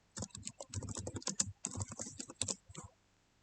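Quick, uneven keystrokes on a computer keyboard as a password is entered, a close run of clicky taps lasting about three seconds before stopping, with no voices.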